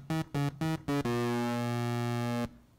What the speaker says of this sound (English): Turning it up just a little bit adds distortion.